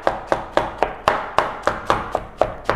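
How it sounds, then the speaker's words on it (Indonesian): A knife chops ingredients for spaghetti seafood marinara on a cutting board: eleven sharp, evenly spaced strikes in a steady quick rhythm, close and clear with no talking. "Ini kita cincang aja ya, ngasal aja."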